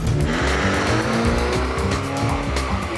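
A van pulls away hard with tires squealing, the engine loud and close under a continuous screech that holds for the whole stretch.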